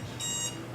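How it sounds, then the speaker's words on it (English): An alarm going off during an indoor presentation, a loud sustained electronic beep tone that sounds for about half a second, alone without speech. "Boy, her alarm works."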